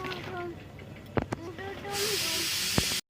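Kochu greens go into salted water in a wok, and a loud hiss of steam swells up about halfway through and holds steady. Someone speaks over the start, and there are a couple of sharp knocks from the pan.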